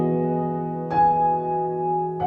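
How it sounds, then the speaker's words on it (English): A layered Keyscape Wing upright piano plays a soft held chord, with two gentle new notes struck about a second apart, intimate and clean with no voices. "That's gonna be the wing upright from Keyscape."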